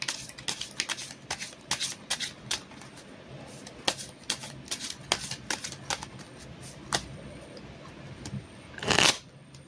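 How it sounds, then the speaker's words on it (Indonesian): Tarot cards being shuffled by hand, a series of crisp riffling flutters and soft slaps in irregular bursts, close and fairly quiet, ending with one longer, louder riffle. "kita akan acak kartu tarot kita untuk tarik energi sisi positifnya dalam sebuah kartu tarot"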